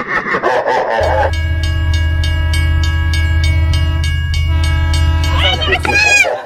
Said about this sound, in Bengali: এই তো ট্রেন আসছে এখনই